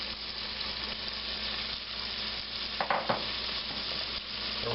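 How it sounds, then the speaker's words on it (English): Diced onions and celery sizzle in olive oil in a pot for pasta fazool, a close, even hiss with a couple of brief stirring scrapes near the middle, no voices. "I'll add a little olive oil to it. And throw in some diced onions and celery."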